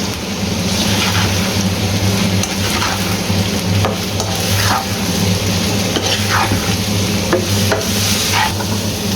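Ingredients for Kabuli pulao, with sugar just added, are stirred in a pan. A loud, continuous sizzle runs throughout, broken by repeated scraping strokes of the spoon, and no voices are heard.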